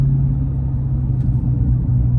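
A 2019 Dodge Charger Hellcat idling with its mid mufflers deleted, a deep steady rumble heard close and loud throughout, with no voices.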